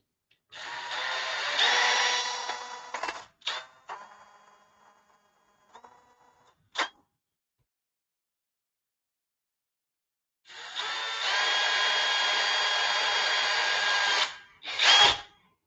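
A power drill opens up a hole for a leaf spring shackle bolt on a lowered-ride-height leaf spring install, running in two long loud bursts with short revving blips and quiet pauses between, no talk.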